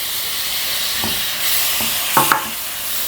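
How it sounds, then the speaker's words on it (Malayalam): Finely chopped sour tomatoes fry in a pan for a Kerala-style pepper beef roast, with a steady loud sizzle and a few close scraping stirs and clinks near the end, without speech. "നല്ലപോലെ നമുക്കൊന്ന് ഇളക്കി കൊടുക്കാം."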